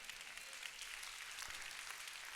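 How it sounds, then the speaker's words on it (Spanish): A church congregation applauds steadily in a continuous wash of clapping that holds at a moderate level throughout, with no voices over it. "Te lo decimos con nuestros aplausos"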